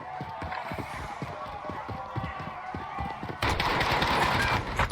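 Rapid automatic gunfire in a video game shooter, a dense stream of quick shots that continues throughout, then grows louder and more chaotic toward the end, with faint speech mixed in.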